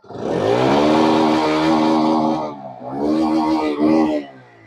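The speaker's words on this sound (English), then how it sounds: "let's rev the bike" A Bajaj Freedom 125cc CNG motorcycle engine revs loudly up close from idle, holding a high roar, dipping briefly, then surging again before dropping off.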